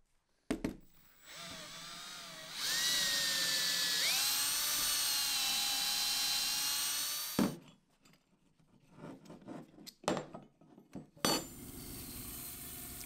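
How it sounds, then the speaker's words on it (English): Drill boring out holes in plywood handle scales, a high whining spin-up that holds steady for several seconds, then stops, followed by scattered handling knocks and another short burst near the end. "drill it out using the drill hole as a guide"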